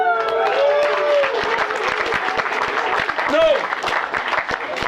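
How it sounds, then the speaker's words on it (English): Thin, scattered clapping from a camp audience at a comedy and magic show patters along unevenly and stays fairly weak, while someone talks over it and calls out once. "that slight awkward gap followed by weak applause"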